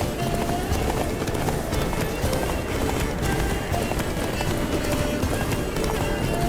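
A horse gallops at a steady clip in The Witcher 3: Blood and Wine expansion, hoofbeats pounding continuously and loudly throughout with no pause.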